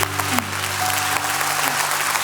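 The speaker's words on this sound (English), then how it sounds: "I hope everybody in the audience, we just clap for everybody that had something to do with this." Applause from a church audience at a date night event, a short burst of dense clapping under a hum of room noise, with a faint voice briefly audible.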